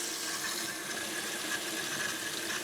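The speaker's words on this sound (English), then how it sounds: "Let me turn on the water." Water running steadily from a tap into a sink while rinsing tempera paint off laser-engraved glass, a continuous soft hiss and splash, fairly quiet and alone.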